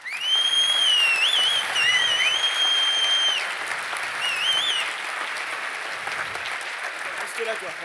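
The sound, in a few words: audience applause after keynote presentations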